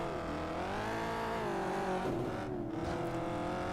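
A racing car engine in Test Drive Eve of Destruction roars continuously and close, revs sweeping down and back up as it holds a sustained drone, with a brief rough scrape partway through.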